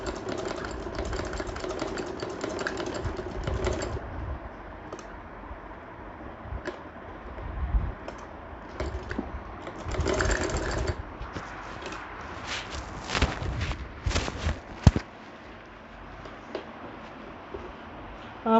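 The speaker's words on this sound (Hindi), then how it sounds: "डबल स्टिचिंग करें, जहाँ पे आपका कॉलर ख़त्म होता है वहीं से।" A sewing machine double-stitches a shirt collar in short, fast rattling bursts separated by quieter pauses with light handling noises. The sound is close, with no speech.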